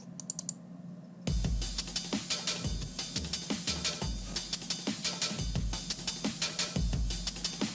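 Layered breakbeat drum kits play together, glitchy clicks stacked over acoustic hits. The pattern is a tight, steady groove of punchy kicks and crisp snares that starts after a short filtered intro.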